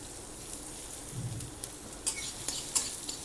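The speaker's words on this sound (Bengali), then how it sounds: "এবার এক মুঠো মতো পেঁয়াজ দিয়ে দেবো" A handful of onions sizzles in a little mustard oil in a pan, a soft, steady frying hiss with a few sharp crackles and stirring clicks, close and fairly quiet.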